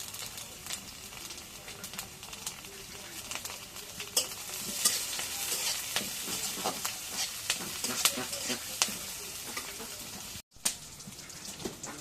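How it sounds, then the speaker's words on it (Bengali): Continuous close sizzling of frying in a pan, with frequent crackling pops and stirring scrapes throughout, briefly cutting out near the end. "ভেজে নিই"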